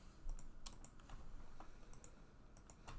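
Quiet, rapid keystrokes on a computer keyboard, clicking in irregular bursts for a few seconds against faint room noise.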